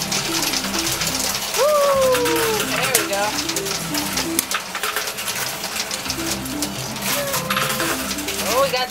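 Coins clatter and jingle repeatedly as they drop and slide in a coin pusher arcade machine, close and lively, with speech mixed in among the metallic rattles.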